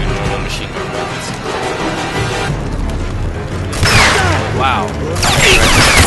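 Machine gun fire in the shooter game Rage, with bursts and booming hits mixed with mechanical clatter, partly under a voice reacting.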